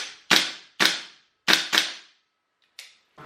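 An HPA-powered gas blowback airsoft rifle fires five sharp single shots at uneven intervals, each a crisp close crack with a brief metallic decay, the last one quieter.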